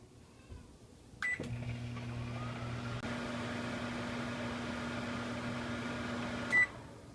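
A microwave oven cooking corn flour halwa hums steadily and quietly, with a sharp click as it starts and another click near the end.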